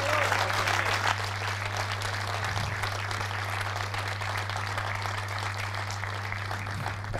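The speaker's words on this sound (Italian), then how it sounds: "il pubblico gli deve dedicare un grande applauso." Sustained audience applause fills an Italian billiards championship hall at Saint-Vincent, dense steady clapping from a crowd lasting throughout, with a constant low electrical hum beneath and no talk over it.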